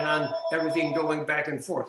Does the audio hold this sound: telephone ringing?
yes